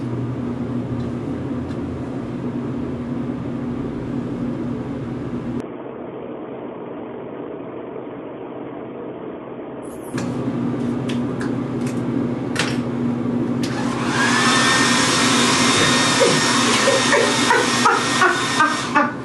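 A handheld hair dryer runs steadily for the whole stretch, with an abrupt change in tone partway through and a louder, brighter rush toward the end, heard close up with no speech.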